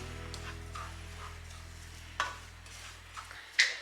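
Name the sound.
unroasted semolina (rava) being roasted and stirred in a pan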